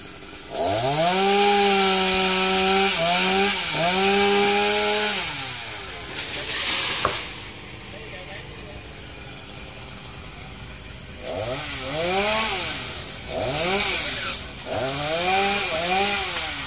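Chainsaw cutting a tall dipterocarp tree, revving in long loud bursts with pitch dips under load, then a quieter pause before further cutting bursts resume.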